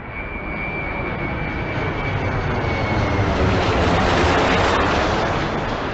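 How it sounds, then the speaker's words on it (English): A fixed-wing aircraft passes overhead, its broad jet-engine roar swelling steadily louder toward the middle and end, with a faint high whine fading early; no voices. "You've got a very clear aircraft noise"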